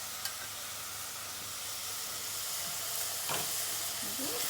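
Condensed tomato soup fries in a pan while a Tuscan bean soup is being made, giving a steady, even hiss and sizzle with a few soft stirring scrapes near the end.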